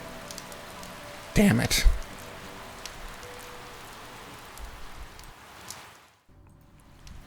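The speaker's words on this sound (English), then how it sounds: "the two stand under a tree as rain continues to batter down on the street" Steady heavy rain beats down on a street in a constant hissing wash, with a brief loud clatter early on and a short muttered remark, before the sound cuts out abruptly near the end.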